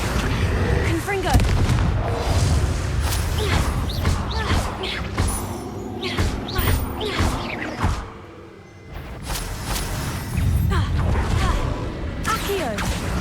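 Blasting spells go off in Hogwarts Legacy combat as loud, repeated explosive booms and whooshes over dense game noise, while a voice speaks through much of it.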